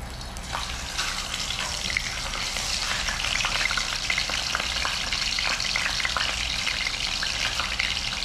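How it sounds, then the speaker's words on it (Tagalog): Steady, loud sizzling and crackling of food frying in hot oil, continuous throughout with faint clinks and stirring. "Prito na tayo."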